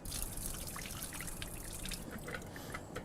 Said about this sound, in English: I'm gonna drain these guys, get all the water out, just like this